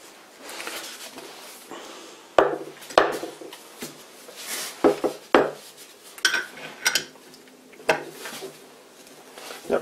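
Screws being loosened on a vintage Union combination chuck, giving sharp metallic clinks and clanks of tool on steel in irregular bursts, close and fairly loud, with occasional soft scraping between hits.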